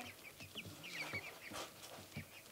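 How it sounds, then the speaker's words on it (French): Two roosters and two hens cluck and chatter softly nearby in short, overlapping calls, a faint but busy flock with no voices over it. "On a 2 coqs et 2 poules."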